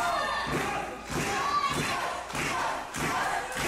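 A wrestling crowd at a no-disqualification match cheers and chants in rhythmic surges, with periodic thumps at roughly even intervals, heard from a distance and fairly subdued.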